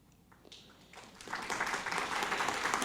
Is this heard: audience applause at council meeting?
yes